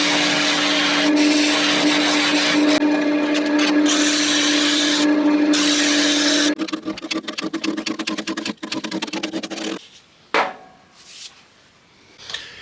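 Wood lathe spinning a textured turned vase while it is cut off, a loud sustained whirring hum with high grinding, then the motor winds down into a rattling, clattering stop with brief knocks and near silence.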